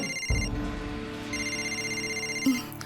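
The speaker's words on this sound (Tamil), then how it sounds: "நான் சிவாக்கு ஃபோன் பண்றேன்." A telephone rings in an animated cartoon with two bursts of bright electronic trilling separated by a short pause, clear and alone over a soft background hum.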